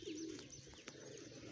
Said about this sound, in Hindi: ये कबूतर आगे बैठा है जी